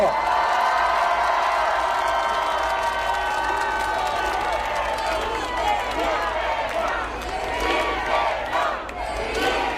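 Large crowd at an outdoor Korean political election rally cheering, whooping and applauding in a dense, continuous roar, with shouted voices mixed in throughout.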